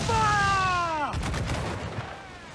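A pirate ship's cannon volley booms during a naval battle in Assassin's Creed IV: Black Flag, a loud close blast cutting off a descending whistle, then rumbling decay with crackling debris.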